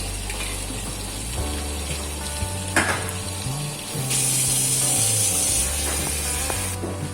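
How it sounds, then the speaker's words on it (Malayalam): Tap water pours steadily into a seven-glass pressure cooker being filled for harees, a continuous rushing gush whose tone shifts as the cooker fills, close and fairly loud. "ആ കുക്കറിൽ ഫുള്ളായിട്ട് വെള്ളം വെക്കുന്നുണ്ട്"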